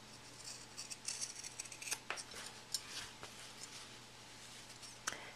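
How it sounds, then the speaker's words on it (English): Scissors snip the fabric corners of a sewn zipper bag, a few quiet, crisp cuts scattered across a hushed room with a faint steady hum underneath. "You want to trim the corner down here at the bottom."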